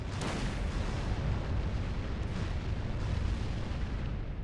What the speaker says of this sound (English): barrage of rockets.